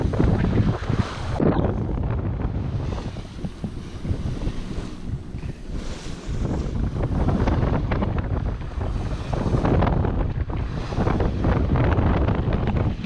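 Wind buffets the microphone aboard a sailboat at sea approaching an island, a loud continuous rumble with rushing water and wave wash, swelling and easing in gusts with no talk.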